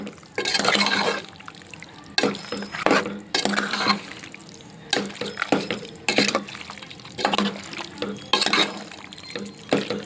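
Spicy mutton curry stirred in a pot, heard as repeated close, wet sloshing bursts separated by short pauses, fairly loud with no talking.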